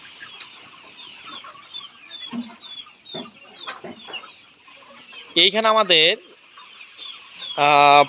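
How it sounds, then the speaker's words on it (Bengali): Laying hens on a poultry farm of about four thousand birds cluck and squawk repeatedly nearby, with a couple of louder, drawn-out calls near the end, while someone talks briefly over the flock. "এখানে আমাদের চার হাজারের মতো মুরগি আছে"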